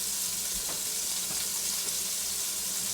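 Green beans sautéing in a hot skillet give a dense, even sizzle throughout, close and continuous, with faint stirring sounds and no talking.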